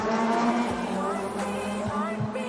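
Mitjet 2L race cars on the Le Castellet circuit accelerating together at a race start, a loud dense engine roar with layered rising tones and brief tyre noise, continuous throughout.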